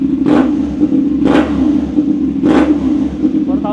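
Three loud revs from an Austin Racing shorty exhaust, each a sharp rising burst over a steady idle rumble, spaced about a second apart.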